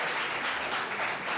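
Congregation applauding at a Sunday church service, a steady dense wash of clapping filling the whole moment without pause, moderately loud and even.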